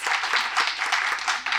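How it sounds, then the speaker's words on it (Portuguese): An audience applauds finalist students and teachers at an education event, a dense, steady wash of many hands clapping that surges in a few waves, with no speech over it. "Uma salva de palmas!"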